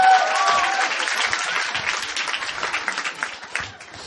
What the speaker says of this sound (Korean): 뭐 이렇게 박수를 쳐요.